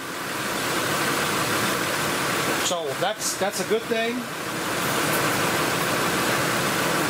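A fully warmed-up 2005 Ford F150 engine idles smoothly with a steady, close, even drone, while someone speaks briefly over it.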